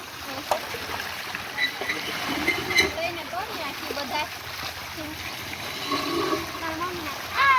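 Water splashes and gushes steadily nearby, with intermittent speech over the rushing flow.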